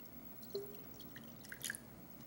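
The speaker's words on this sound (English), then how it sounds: "down here on this side, we pour the mixture of water" Water mixture poured into a cooking pan beside pork backbone, a brief soft splash and trickle followed by a few faint drips, quiet and close with no voices.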